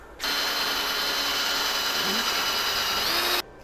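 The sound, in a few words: power drill drilling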